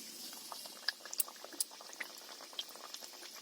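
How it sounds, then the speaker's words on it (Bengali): Leaf-shaped biscuits fry in hot oil in a wok, a quiet bubbling hiss dotted with sharp, scattered crackles and pops at irregular intervals, close by and fairly faint. "কড়াইতে তেল দিয়ে দিছি তেলটা গরম হয়ে গেছে এবার বিস্কুটগুলো আমি একে একে দিয়ে দেবো"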